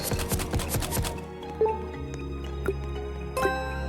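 A player character wades into water in a hide-and-seek video game. A quick run of wet, squishy splashes is followed by a few scattered drips, fairly close and with no talking.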